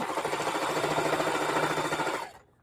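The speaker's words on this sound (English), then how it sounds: "So, I'm making a straight line of sewing" A sewing machine stitches a straight seam on a feedbag, a steady, fast mechanical whir with a rapid rhythmic patter that runs continuously close up, then stops abruptly near the end.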